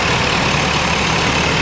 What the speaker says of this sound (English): we'll let her back to an idle here